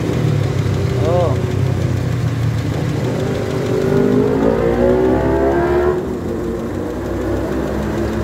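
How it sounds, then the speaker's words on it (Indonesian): A 1996 Toyota Kijang Grand Extra with a 7K 1800 cc engine runs steadily at idle close by, its low mechanical hum continuing under a voice. "Ini mesinnya 7K 1800 cc."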